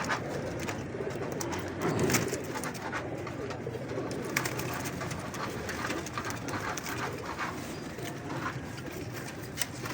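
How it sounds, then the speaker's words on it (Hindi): Soft, low cooing of a female pigeon repeats amid a rustling, noisy background, fairly close and continuous, with no one speaking. "ये कबूतरी है दोस्तों, चेक करें माशाल्लाह दोस्तों।"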